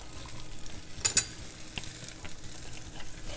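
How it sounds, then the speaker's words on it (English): Fennel and onion fry in a pan with a steady, soft sizzle, broken by a few brief stirring scrapes and clicks near the one-second mark, close up and fairly quiet, with no talking. "we're going to fry this for approximately 7 minutes"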